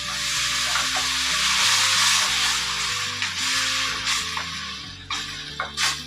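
Ground tomato puree, three tomatoes, sizzles and bubbles steadily in a hot pan for bhindi do pyaza, with a spoon stirring and scraping now and then.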